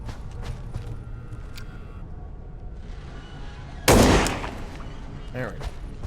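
A single loud gunshot in an indie video game, sharp and sudden, rising out of quieter game ambience and fading quickly, with faint speech around it.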